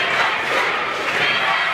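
Wrestling crowd at a Highland Embassy versus Team Y2X match roars and shouts in a dense, loud, unbroken wash of cheering voices.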